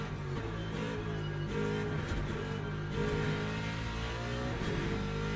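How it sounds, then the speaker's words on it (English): A Mecachrome GP2 engine powers a race car in Le Mans Ultimate, a continuous high, buzzing engine note held steady with slight pitch shifts, loud and alone. "And it's funny because it is literally the GP2 engine."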